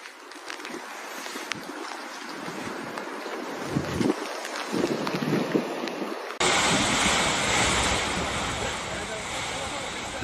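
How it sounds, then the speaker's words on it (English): Storm floodwater surges through streets during a powerful storm in Turkey, with a steady broadband roar of rushing water and strong wind buffeting the microphone. The sound continues throughout and grows louder partway through. "Strong flows of water tore off parked cars and swept through the streets."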